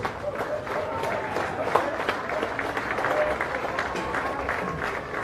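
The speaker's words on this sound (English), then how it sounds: "How about a huge round of applause, ladies and gentlemen, for all the nations competing over the last couple of weeks" A crowd at a rugby league grand final in rainy Sydney gives sustained applause, a dense rattle of clapping heard from a distance and mixed with general crowd murmur.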